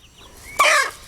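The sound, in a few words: chickens clucking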